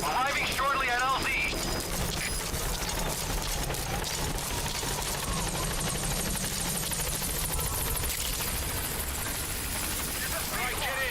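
Helicopter in a Metal Gear video game arriving at a landing zone, a loud, steady rotor roar that fills the scene throughout, with game voices and effects layered over it.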